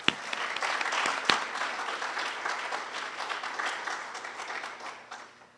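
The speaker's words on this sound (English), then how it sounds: "Let's give them a round of applause, everybody." Audience applause at a school district hall of fame induction ceremony, a sustained wash of clapping from a large crowd that opens with a couple of sharp close claps and slowly fades.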